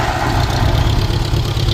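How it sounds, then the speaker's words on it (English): Old Allis-Chalmers tractor engine idling after starting, a loud steady low rumble close by, continuous with no voices. "Fires right up almost every time. Love this old tractor."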